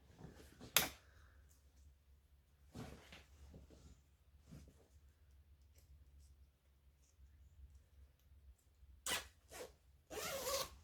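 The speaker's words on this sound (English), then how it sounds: "we want to zip it together and make sure that it's even" Zipper on a sewn hoodie pulled in several short, sharp zips, separated by quiet gaps, with a longer rasping run near the end, close and crisp.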